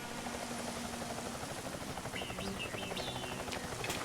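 A big helicopter flies in the video game Ty the Tasmanian Tiger 2: Bush Rescue, a steady loud rotor and engine drone that fills the whole stretch, with faint game chirps layered on top.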